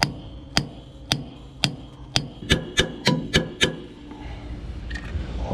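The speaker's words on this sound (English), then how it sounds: "I'll take our Mueller chisel, give it a few whacks here" A Mueller chisel is hammered on forklift brake parts, giving about ten sharp metallic whacks close by, slow at first and then quickening, with a lower rubbing noise after the last blow.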